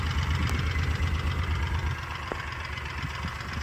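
Four-cylinder engine of a Kawasaki Mule 4010 utility vehicle idling steadily nearby, a continuous low rumble with even pulsing throughout, no talking.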